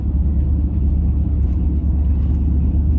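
A K1500 pickup truck drives along the road toward a body shop, its engine a loud, steady low rumble with road noise that holds without a break for the whole stretch.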